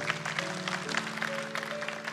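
A church congregation claps steadily during a worship service, a dense, close patter of hands over sustained keyboard tones.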